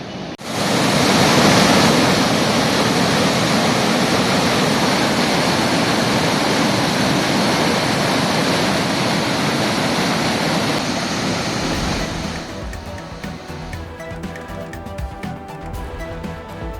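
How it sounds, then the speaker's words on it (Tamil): Mullai Periyar river in Theni gushing in full flow, a loud, dense roar of rushing water that holds steady for about twelve seconds before dropping away under fainter tonal sound. "தேனி முல்லைப்பெரியாற்றில் ஆற்றில் ஆர்ப்பரித்து பாய்ந்தோடும் தண்ணீர்."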